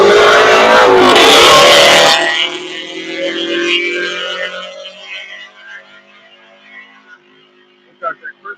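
A car decorated with Christmas lights roars past close by, a loud engine rush for about two seconds that then drops away, leaving a quieter fading tail and a few faint clicks at the end.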